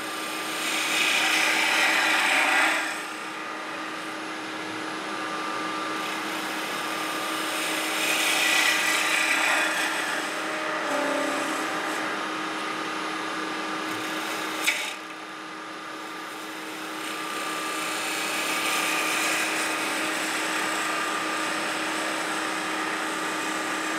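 Wooden kuksa cup spinning on a lathe as a detail gouge cuts a cove, giving a steady rasping, whirring tone that swells and eases in several long passes, with a constant motor hum beneath and no talk.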